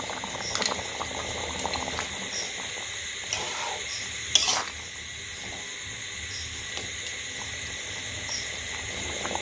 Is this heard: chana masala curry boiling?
yes